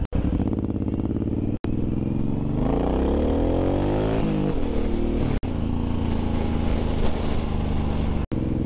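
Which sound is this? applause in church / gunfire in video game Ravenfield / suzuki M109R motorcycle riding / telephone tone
suzuki M109R motorcycle riding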